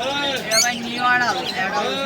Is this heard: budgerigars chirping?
yes